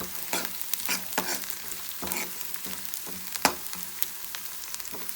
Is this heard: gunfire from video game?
no